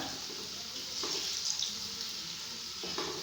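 Onions fry in a pan, lightly browned, giving a steady, moderately soft sizzle with a couple of faint stirring clicks and no voices over its few seconds.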